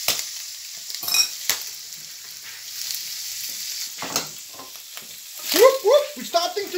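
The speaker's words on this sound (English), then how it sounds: "When you're frying it, tends to shoot." Oil sizzles and spits steadily as squid fries, with occasional sharp pops and a brief stirring scrape near the end; no voices.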